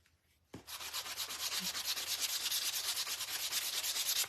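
Sandpaper rubs over a rattan pumpkin from a fall decor kit, a steady rhythmic scratching that starts abruptly and continues close and loud, with no talking.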